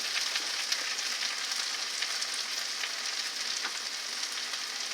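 Ground meat sizzling steadily in a hot pan over softened translucent onions for a deep dish pizza, a close, continuous crackle with no talking.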